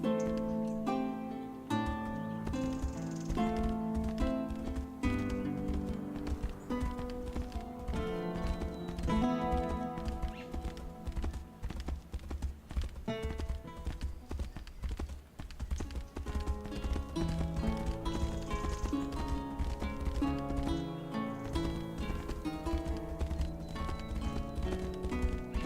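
Horse hooves clip-clop steadily in the fantasy role-playing game Tainted Grail: The Fall of Avalon, a rhythmic trot running throughout under a continuous bed of game music.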